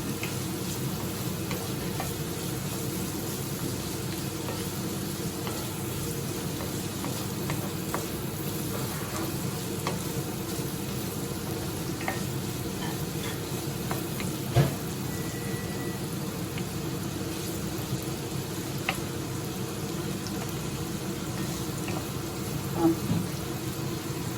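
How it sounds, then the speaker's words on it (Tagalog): Carrots sautéing in a pan as the base for a risotto, giving a steady, close sizzle and crackle that runs throughout with occasional small pops and stirring sounds. "Kasi igisa lang natin yung carrots dyan."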